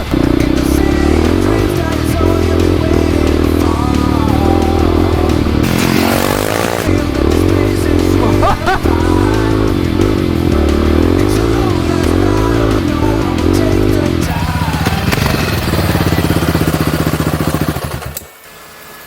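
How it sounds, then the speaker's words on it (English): A modified motorcycle ridden off-road, its engine droning loud and steady with revving swells and rattling over rough ground, then cutting off abruptly near the end. "The question that everyone wants to know is if we completely ruined it off-road now."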